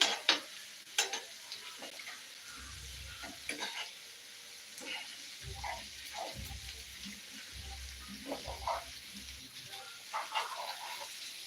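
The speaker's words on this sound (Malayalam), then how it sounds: "ഒന്ന് ഇളക്കണം ഒന്ന് ഇളക്കി നോക്കാം" Mackerel fry and chicken fry are stirred in a pan, a soft sizzle under scattered scrapes and clinks of the spoon, with low thumps in between, fairly quiet and close.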